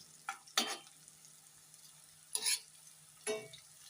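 Chicken liver, in a preparation made with amaranth leaves, fries softly in a pan while it is gently stirred. Four brief scraping, sizzling strokes sit over a quiet steady background.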